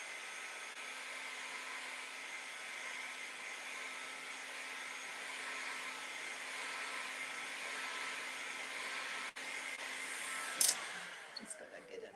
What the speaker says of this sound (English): I'm just going to warm that up with my heat gun